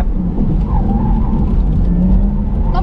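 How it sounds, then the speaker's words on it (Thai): A Porsche Taycan Turbo on a Speedway race track, with a steady loud whir of motor and tyre roar throughout and a faint tyre squeal rising and falling as it brakes in a straight line. "เบรกนะครับ"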